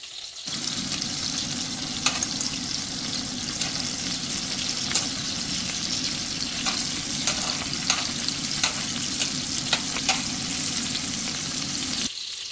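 Head-on Kaua'i shrimp fry in a hot pan with a loud, continuous sizzle, scattered sharp pops and a few clinks from turning them over, with no voices.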